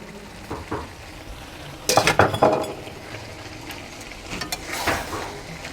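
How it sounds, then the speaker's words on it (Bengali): Fried bitter gourd is stirred into cooked greens in a pan, producing soft scraping and a few clinks of a spatula over a low background sizzle, with no voices. "করলাগুলো মিশিয়ে দেব।"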